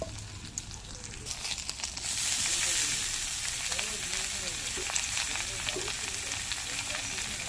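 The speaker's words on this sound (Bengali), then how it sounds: "এবার এড়ে কচু ডাটাগুলি আর চিংড়ি মাছগুলি মশলার ভিতরে দিয়ে দেবো" Small shrimp and taro stalks frying in a cooked spice paste, a dense close hiss of sizzling that thickens after a couple of seconds, with faint stirring and some sputtering crackle.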